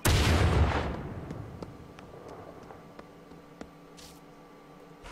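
C4 explosive blowing open a crate in the video game The Culling: one loud booming blast at the start that fades into a long rumbling decay, then quiet scattered clicks and faint ringing tones.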